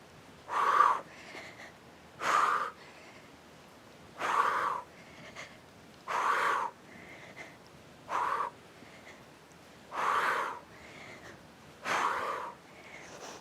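Heavy rhythmic breathing during a floor exercise workout, about eight loud forced exhales spaced roughly every two seconds, close to the microphone with quiet gaps between, no speech.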